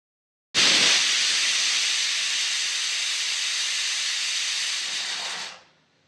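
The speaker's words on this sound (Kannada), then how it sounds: "ಕುಕ್ಕರ್ ಮುಚ್ಚಳ ಮುಚ್ಚಿ 2 ವಿಷಲ್ ಕೂಗು ಬರುವವರೆಗೂ ಮೀಡಿಯಂ ಫ್ಲೇಮಿನಲ್ಲಿ ಬೇಯಿಸಿಕೊಳ್ಳಬೇಕು" A pressure cooker cooking dal on medium flame vents steam in one loud, continuous hiss that lasts about five seconds, then tapers off quickly into silence.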